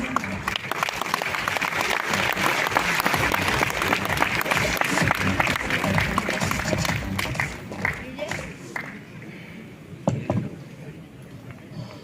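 A room of company agents applauds the managing director as he takes the stage: loud, sustained clapping for about eight seconds that thins to a few claps as a voice starts talking.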